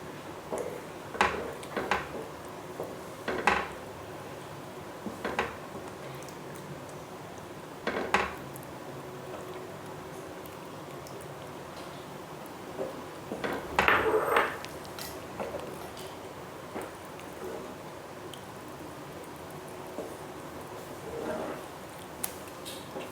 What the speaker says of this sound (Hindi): तो इस तरह थोड़ा थोड़ा डालते रहेंगे और इसमें मिलाते रहेंगे।